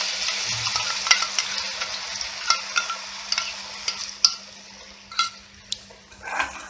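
Onion and garlic paste fries in a pan with a close hiss, punctuated by sharp clicks and scrapes as it is stirred at an uneven pace.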